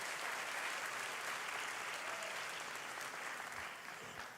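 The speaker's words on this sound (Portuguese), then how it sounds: "Salve de palmas para Jesus, queridos." Congregation applauding during an evening celebration church service, a steady, dense wash of many hands clapping together that holds evenly throughout and eases slightly near the end.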